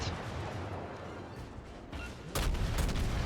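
A warship in a World of Warships replay fires its guns: distant, muffled thuds roll under a steady rumble, then one louder blast lands near the end.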